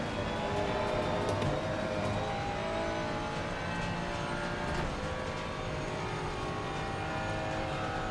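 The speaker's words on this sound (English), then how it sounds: "I joke about the Ferrari sounding like a diesel" A Ferrari race car engine in Assetto Corsa Competizione roars steadily and loudly throughout, a dense, continuous drone with a slightly rough, diesel-like tone and no talking.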